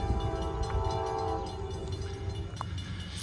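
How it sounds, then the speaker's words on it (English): Train approaching a gated level crossing in Troy, Ohio, with a sustained horn sounding and rumbling rail noise underneath, fairly distant and steady, and no voices. "We got a train coming too."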